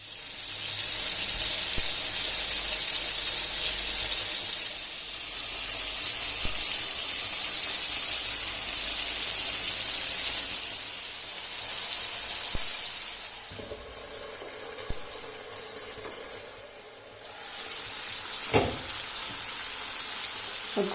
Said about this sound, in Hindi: अब फिश की एक साइड को गोल्डन ब्राउन कलर होने तक इसे फ्राई होने देना है।